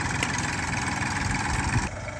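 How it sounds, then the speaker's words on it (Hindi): A modified Massey Ferguson 241 tractor pulling a cultivator through a standing cotton field runs with a steady, loud, throbbing diesel chug, close and continuous without talk. "आपके सामने बिल्कुल ट्रैक्टर चल रहा है"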